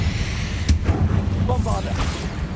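A Confringo fire-blast spell goes off in the Hogwarts Legacy video game, a sharp near burst that cracks then rumbles briefly over steady low game ambience, with a voice speaking faintly alongside.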